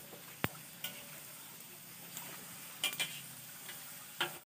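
Opak crackers frying in a pan in a village kitchen in Garut, West Java, a soft steady sizzle with scattered ticks and taps of stirring, close and fairly quiet.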